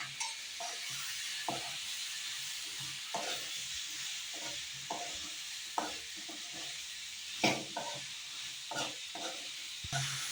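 Fish curry (meen kulambu) with brinjal simmering in oil, a soft continuous sizzle broken by repeated light scraping strokes of a spoon stirring slowly in the pan; no talking.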